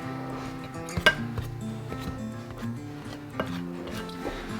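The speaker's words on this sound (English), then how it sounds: "We're going to add some shortening, and we're just gonna cut that in." Shortening is cut into rosemary cracker dough in a bowl, giving soft scraping and chopping taps with a couple of sharper clinks against the bowl. Steady background music plays underneath.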